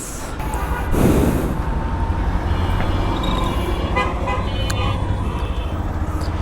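A train passes overhead at a railway underpass at Titipara, Kamalapur, Dhaka, with road traffic moving below. A loud rumble swells early on, and horn toots sound over a continuous traffic roar.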